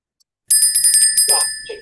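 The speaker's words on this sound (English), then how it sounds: "Ringing the bell." A bell rung during a live US30 day-trading session, a bright bicycle-style ring-a-ling of rapid repeated strikes that then fades, with brief voice sounds near the end.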